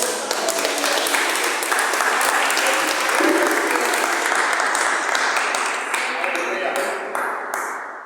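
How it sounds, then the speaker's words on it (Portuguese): A church congregation applauds in praise after a sermon, dense steady clapping that fills the room for the full stretch, loud and sustained, easing slightly toward the end, with a faint voice or two underneath. "E as palmas louvam o Senhor."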